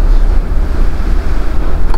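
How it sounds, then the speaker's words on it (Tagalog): Strong typhoon wind roars and buffets the microphone in a constant low rumble, gusting loudly and steadily with no voices. "Ang lakas ng hangin"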